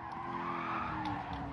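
Car tyres squeal in a prolonged skid during a Gran Turismo Sport race in a McLaren, a loud continuous screech over engine noise.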